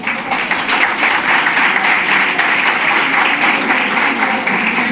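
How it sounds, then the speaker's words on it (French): An audience breaks into steady, loud applause for the President of the Republic, a dense wash of clapping that holds evenly throughout. "applaudissons d'abord pour le président de la République"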